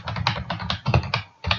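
Keyboard typing while a full name is entered during a disk-partitioning setup, with quick irregular bursts of close, crisp keystrokes and brief pauses, no talk.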